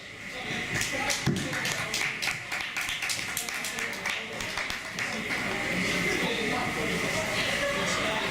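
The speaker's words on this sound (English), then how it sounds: "give a big round of applause to my man, Mervin Judah" An audience at a poetry night applauds a poet with steady, dense clapping that runs unbroken for over eight seconds at moderate loudness.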